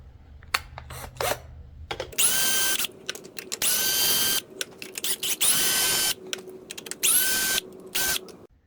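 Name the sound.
drill removing 10 mm bolts on Mercury 90hp outboard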